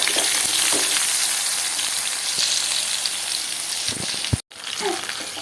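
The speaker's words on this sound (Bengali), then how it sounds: "দেখো বন্ধুরা আমার আলু আর বেগুনটা কিন্তু ভাজা হয়ে গেছে" Potatoes and eggplant frying in oil give a steady, close sizzle with a few stirring clatters, cutting out briefly near the end before the hiss resumes.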